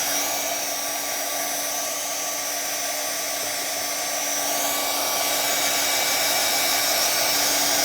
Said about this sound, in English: I'm going to run the heat tool even behind just to cancel the warping